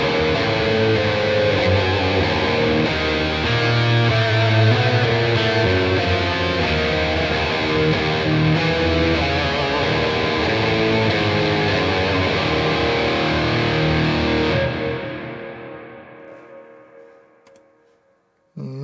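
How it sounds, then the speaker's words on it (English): Electric guitar played through a Bogren Digital amp plugin with an octave sustain effect, a dense, loud distorted tone holding steadily before fading out near the end. "let's go for an octave sustain."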